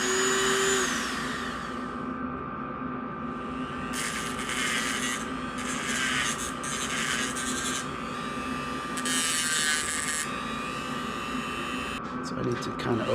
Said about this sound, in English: So let's bust out the Dremel, try and sand that down, and we'll see what happens.